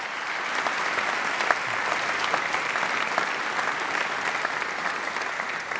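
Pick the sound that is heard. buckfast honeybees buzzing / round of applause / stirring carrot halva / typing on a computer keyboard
round of applause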